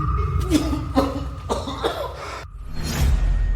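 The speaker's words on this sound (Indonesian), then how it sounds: "dan kau batuk seperti ini" An elderly person coughs in several harsh, throaty bursts at close range, spaced about half a second apart, followed by a brief pause and a final rough exhale, in a dramatic scene.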